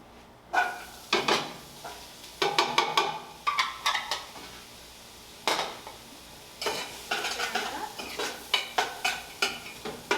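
Ingredients tipped into a soup pot of olive oil over medium heat, then stirred with repeated scraping, clattering strokes and a soft sizzle underneath, close and fairly loud in uneven bursts with short pauses.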